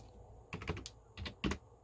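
Three short clusters of keystrokes on a computer keyboard, a number being typed in, close and quiet in a still room.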